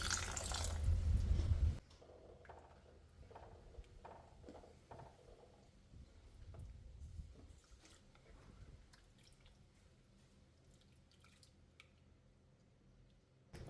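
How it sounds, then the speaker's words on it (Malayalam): Water is poured into a snake gourd curry simmering in a clay pot. A loud, steady splash runs for about two seconds, then soft close drips and faint bubbling follow. "സ്വല്പം കൂടി വെള്ളം ഒഴിക്കുന്നുണ്ട്"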